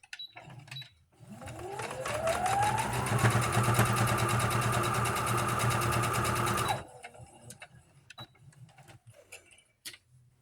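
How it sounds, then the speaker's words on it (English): A sewing machine stitches the corners of a fabric bowl cozy, starting up and running in one fast, steady burst of several seconds before stopping, with quiet handling noises on either side. "we're going to sew these 2 corners just like we did the other ones."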